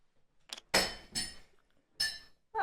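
Sharp glassy clinks near a table during a tabletop game session: a faint tap, then a loud clink with ringing, a second knock and a third bright clink, close by with no talking.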